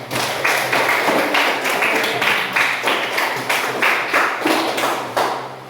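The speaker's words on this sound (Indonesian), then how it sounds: "Coba tepuk tangan untuk Regina." A classroom of students claps for a classmate in a steady burst of near, dense hand claps with a soft rhythmic pulse, lasting several seconds with little talk.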